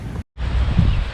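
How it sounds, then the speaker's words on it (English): Low, rumbling wind buffets the microphone in loud gusts, broken by a brief dropout of silence. "So it's a little bit windy today, as you can see."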